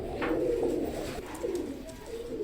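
Chinese teddy pigeons cooing close by in a steady run of soft, throaty coos with no talk over them.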